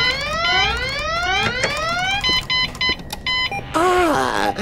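An electronic alarm in the adventure game Goodbye Deponia blares loudly, with rising sweeping siren tones, then rapid repeated beeping pulses, then a warbling wail near the end.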